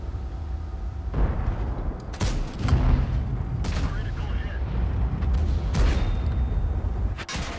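Heavy tank cannons in World of Tanks, with a Maus in the battle, fire several loud, booming shots a second or so apart over a continuous rumbling battle din.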